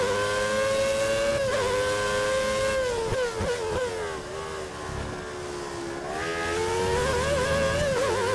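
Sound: race car engine in F1 2013 video game

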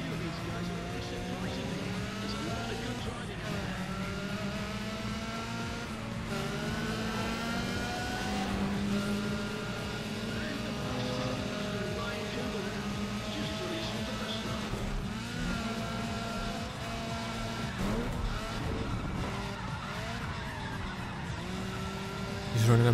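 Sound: racing car engines and overtakes, Need for Speed ProStreet video game

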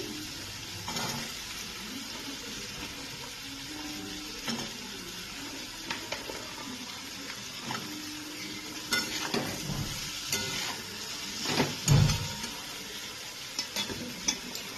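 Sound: frying and stirring cut potatoes with ground spices

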